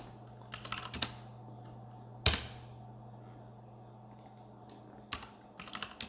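Computer keyboard keys pressed close by during a 3D texturing session, a few scattered clicks and short typing bursts separated by quiet pauses, including one sharper keystroke, over a low steady hum with no talk.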